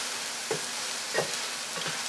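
Eggs fry in a pan under a steady soft sizzle, with a few light scrapes of stirring breaking through at irregular moments, close and without speech.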